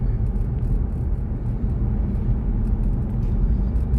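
Steady low road rumble from inside a hybrid Jeep cruising early morning on a highway among a long string of traffic, a continuous broadband drone with no distinct passes.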